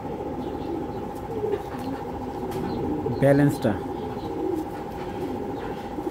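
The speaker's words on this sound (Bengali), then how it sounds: "দেখেন কবুতর দুইটা" Racing pigeons held in the hand give a brief flurry of wing flaps and soft cooing about halfway through, close by, under steady talk and a constant background hum.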